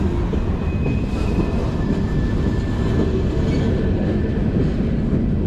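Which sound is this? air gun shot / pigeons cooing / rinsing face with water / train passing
train passing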